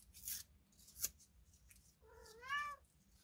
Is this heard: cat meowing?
yes